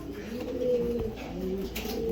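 Racing pigeons coo softly nearby, low rolling calls repeating over a quiet background.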